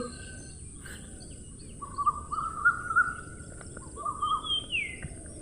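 An animated crow sings off-key in a cartoon story: a string of wavering tonal calls rising and falling in short phrases over a quiet, faintly buzzing background, with no speech.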